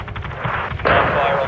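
Gunfire in Call of Duty: Modern Warfare II, a burst of shots under a brief voice, then a louder dense blast of fire and rumble that fills the rest of the short moment.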